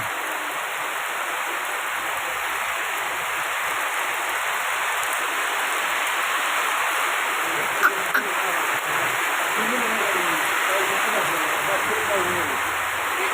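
Heavy rain pours down in a steady, dense hiss that fills the whole stretch outdoors without pause, loud and close throughout.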